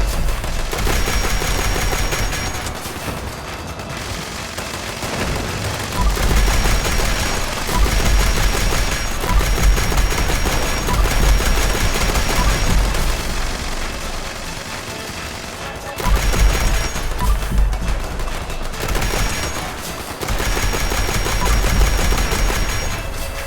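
Fallout 76 alien event gameplay with carbine rifle and missile launcher fire: dense, loud bursts of rapid gunfire and explosive blasts that run almost continuously, dropping out briefly twice before resuming.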